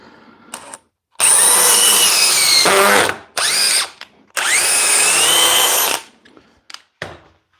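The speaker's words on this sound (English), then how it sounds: "Anybody questioning whether you should use a drill for those larger fasteners?" A Milwaukee M12 cordless drill drives large fasteners in loud, high-pitched whirring bursts, two long runs separated by short pauses and followed by brief trigger blips, with the motor bogging under load.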